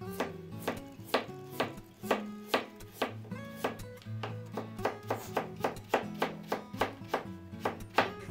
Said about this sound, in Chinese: 再将它切成片备用